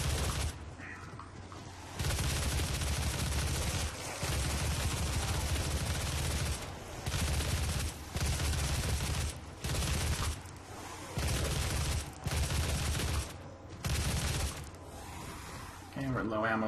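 Gunfire from shooting enemies in a DOOM SnapMap zombie-style level: sustained bursts of rapid weapon fire in long blocks separated by short pauses, loud and continuous, with a voice talking over it.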